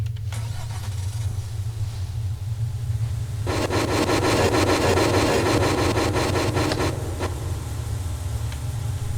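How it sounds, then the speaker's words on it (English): An engine starts and runs in the People Playground video game, a steady low idle hum with a rougher, louder mechanical buzz swelling in the middle before settling back. "And start the engine"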